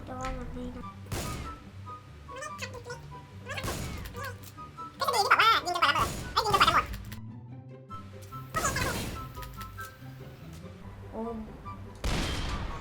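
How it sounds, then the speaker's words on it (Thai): Gunfire in the video game Dead Rails, repeated sharp shots and bursts scattered across the span, mixed with game music and impact sounds, with some talking in between. "เขาบอกให้ยิง พวกนี้ไปเรื่อย ๆ จนกว่าจะหมด"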